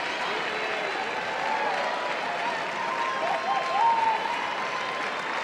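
Sustained applause and crowd noise fill the arena at a dog show as a dog circles the ring, steady and fairly loud, with faint voices and a brief whistle-like tone mixed in.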